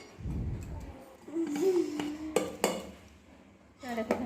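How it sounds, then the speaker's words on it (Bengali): A steel tiffin box is lifted out and handled in a home kitchen, giving a few sharp metallic clinks and knocks with soft scraping between them, close up and fairly quiet, with faint background murmur. "এবার টিফিন কৌটোটা বের করে নিচ্ছি।"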